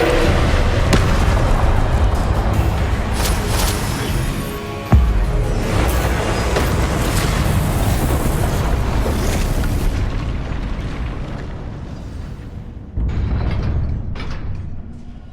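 Confringo spell blasts in Hogwarts Legacy, booming explosive bursts with a sharp impact midway and another later, over rumbling combat effects and mechanical clatter.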